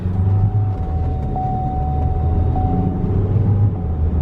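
A Chevy Cruze turbo engine with over 533,000 miles idles in a steady, low rumble, with a faint thin whine running through it. No voices are heard.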